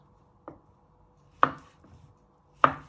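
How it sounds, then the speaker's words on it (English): A knife chops vegetables on a board for seafood pasta, giving three sharp, close thuds spaced about a second apart with quiet between them. "You want to put 3 together, and you want to cut them into"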